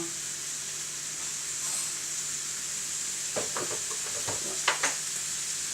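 Spices and peppers being stirred for a mesemen filling, a soft steady hiss with a few scraping, tapping stirs toward the end, close and fairly quiet.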